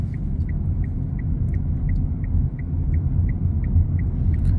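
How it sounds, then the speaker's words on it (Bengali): A car rolls downhill in neutral with its engine switched off, giving a steady low road rumble from inside the cabin, punctuated by a faint, evenly spaced ticking that repeats throughout. "এই যে গাড়ি অটোমেটিক চলতেছে, গাড়ি নিউট্রালই, শুধু জাস্ট ব্রেকে চাপ দিলেই হয়"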